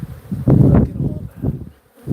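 Honeybees from a large hive in a house soffit buzzing close and loud, an uneven swelling drone with a few brief surges and dips.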